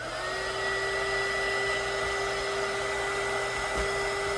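A heat gun blows hot air onto a small gift box while assembling a Pokémon gift basket, giving a steady, loud whooshing hum with a constant motor whine that runs unbroken throughout.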